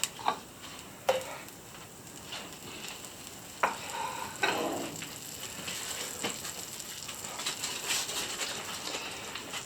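Butter melting in a hot pan after pork has been cooked, giving a soft steady sizzle with occasional clicks and light stirring or scraping sounds, close by with no talking.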